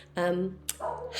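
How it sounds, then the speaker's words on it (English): Dogs bark indoors at close to moderate distance, one short harmonic bark followed by a sharper yip and a softer whining bark, over a steady electrical hum. "I'm sorry about the dogs barking in the background"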